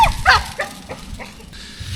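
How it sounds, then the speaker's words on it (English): Dogs bark and yip in a short, uneven burst of several calls near the start, then quieter whimpering sounds follow over a low rumbling background. "We have the mad dogs."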